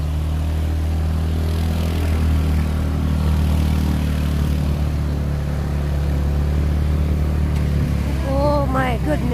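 Idling engines in Kathmandu street traffic form a steady low, throbbing rumble that stays close and constant, with people's voices breaking in near the end.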